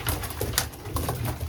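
Racing pigeons coo softly and repeatedly at close range in a loft, with flutters and small scuffling sounds around them and no talking.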